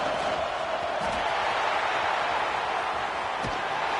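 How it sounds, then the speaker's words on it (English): Stadium crowd roar in a college football video game during a goal-line defensive stand, a steady dense wash of cheering that holds loud and even throughout with no pauses. "the crowd really making some noise now, trying to help out this defense to get this stop near the goal line"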